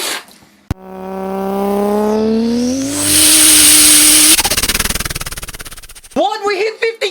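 A person vocally imitates a racing car: a rising revving engine drone climbs in pitch, holds as a loud roar, then stutters out, ending with a few short squealing vocal sounds.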